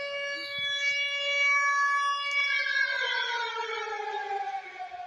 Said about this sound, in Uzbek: Biz sirenaga nima qildik?